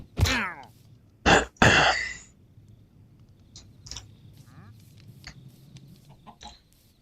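Chicken clucking in the Minecraft video game: a few short, sharp clucks near the start, then quieter scattered clucks over a low background hum.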